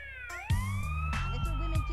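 Wailing ambulance siren in the video game GTA San Andreas, rising and falling electronic tones sustained throughout, with other game sounds layered underneath.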